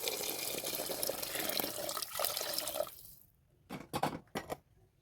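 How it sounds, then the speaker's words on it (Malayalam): Steady rushing water pours into a pot of prawn biryani for about three seconds, then stops, followed by a few short splashes and drips. "നമ്മളിതിലേക്ക് വെള്ളം ആഡ് ചെയ്ത് കൊടുക്കുക"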